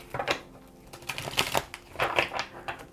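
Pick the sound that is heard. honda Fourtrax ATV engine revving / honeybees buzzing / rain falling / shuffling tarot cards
shuffling tarot cards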